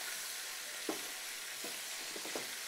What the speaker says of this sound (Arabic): هلا هنا امخداو تحميره خفيفه وتلقوا لي البنه في الزيت